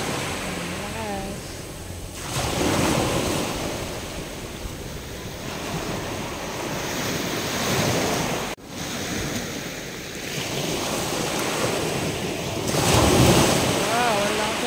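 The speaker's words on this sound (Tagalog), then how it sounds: "Ang lakas, guys, ng alon." Strong ocean waves roll onto a beach at dawn, a continuous loud surf roar with swelling crashes, mixed with wind buffeting the microphone and voices talking over it.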